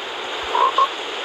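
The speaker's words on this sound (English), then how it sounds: "That's a frog." A frog in the game Fortnite gives two short, close croaks over a steady hiss of game ambience, with no voices.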